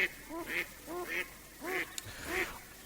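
A duck quacks five times in a steady rhythm near a swimming pool, moderately close and fairly quiet, with a faint click partway through.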